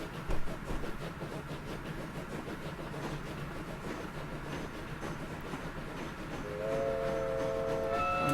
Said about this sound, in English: We've got another train coming out there.